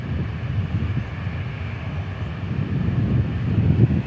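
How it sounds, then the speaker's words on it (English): An Air France airliner taxis for takeoff at DFW Airport, a steady low engine rumble in the distance under wind noise that slowly grows a little louder. "And then we got Air France taxiing to take off."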